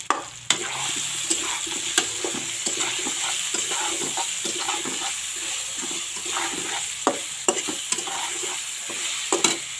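Mango pieces being stirred and fried in a pan for chutney, a steady soft sizzle broken by sharp scraping clicks of the spoon against the pan at irregular intervals.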